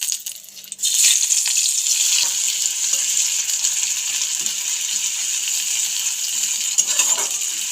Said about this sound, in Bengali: এখন এখানে মিডিয়াম সাইজে দুটো কাঁচা পেঁয়াজ আমি খুলে খুলে এইভাবে তেলের মধ্যে দিয়ে দেবো